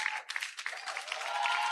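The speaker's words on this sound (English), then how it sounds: "A round of applause." An audience applauds in a hall at a Nigerian pharmacy quiz event. Scattered clapping sounds faint and distant, thin at first and then filling in to a steadier patter.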